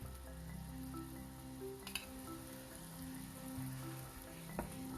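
Jaggery syrup coming to a boil in a pan, with ghee being added, gives a steady low bubbling sizzle throughout, with a sharper clink or splash near the two-second mark and another near the end.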